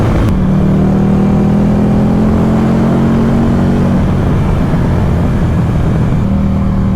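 A Buell XB9 motorcycle engine drones loud and close while riding on winding roads, its pitch climbing then settling under a constant rush of wind.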